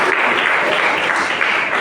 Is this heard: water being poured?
no